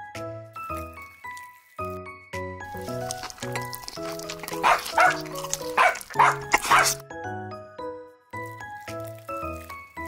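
A small dog yips and barks in a cluster of sharp bursts midway, over a steady backdrop of plinking musical notes in a miniature cooking setting.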